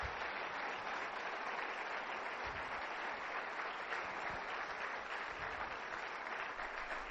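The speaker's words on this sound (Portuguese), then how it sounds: "Vamos dar um forte aplauso para todos eles." An audience claps steadily for the event coordinators and managers, a dense, continuous applause with no voices standing out, sustained for the whole stretch at moderate distance.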